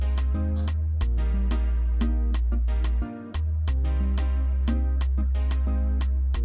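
Zouk kizomba instrumental intro built in FL Studio plays with a deep sustained bass, steady percussive hits and repeating melodic synth notes at a consistent level, briefly dropping out near the middle, with no voices.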